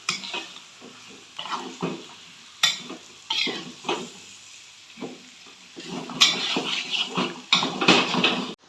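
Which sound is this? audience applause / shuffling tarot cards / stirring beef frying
stirring beef frying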